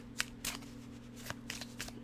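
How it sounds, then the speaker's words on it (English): Close, quiet riffling of tarot cards being shuffled, several soft papery bursts over a low hum. "I'm going to shuffle these cards"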